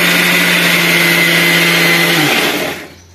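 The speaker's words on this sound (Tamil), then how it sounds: "சின்ன மிக்சினால" A small kitchen mixer grinder blending onion into paste whirs loudly and steadily, its motor hum then winding down and stopping near the end.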